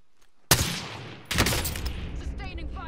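Bursts of video game gunfire crack out close and loud, a sharp volley followed by a second heavier burst that rolls into sustained echoing fire and battle noise.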